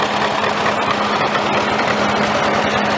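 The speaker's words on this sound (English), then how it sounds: "We have another beautiful example of a John Deere tractor." Antique John Deere tractor idling at a parade: a steady, loud low engine hum with a constant throb throughout, no talking over it.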